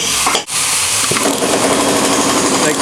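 A power tool runs steadily while backing an 8mm bolt out of the parking pawl mechanism during a transmission rebuild teardown, a loud continuous whir with one brief pause near the start.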